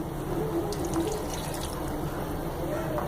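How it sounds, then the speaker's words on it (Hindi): About a cup of water poured into a mixed vegetable curry in a cooking pot, a steady soft splashing stream running for a few seconds. "तो अब मैं इसमें 1 कप के करीब पानी शामिल करूंगी।"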